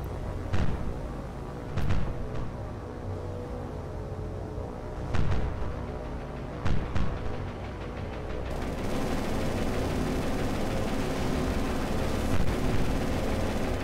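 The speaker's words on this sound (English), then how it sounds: "Our ships do have anti-aircraft guns on them." Warship anti-aircraft guns firing in the naval game War on the Sea during the Guadalcanal invasion: scattered heavy booming shots over a steady rumble, building into a dense continuous barrage.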